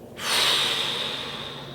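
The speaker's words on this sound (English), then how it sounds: "and then breathe out." A single slow exhale during a calming breathing exercise, a soft airy rush that starts abruptly, swells, then gently tapers while staying close and quiet, with no talking.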